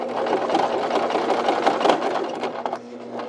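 Industrial sewing machine stitching a seam on a shirt-style check coat, a steady close mechanical whir with rapid needle chatter throughout, easing off near the end.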